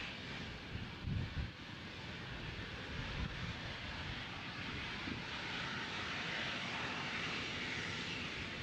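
A plane taxiing back toward a maintenance shed at Nashville airport, its engine giving a steady, moderately distant hum with some wind buffeting, alone with no talk.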